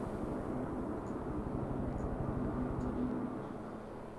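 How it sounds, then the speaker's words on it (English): Helicopter engine in Microsoft Flight Simulator 2024, a 500C flying over the Okavango Delta, gives a steady droning rumble with a low rhythmic beat throughout, loud and unbroken, with no talk. "I guess it's just my helicopter's loud."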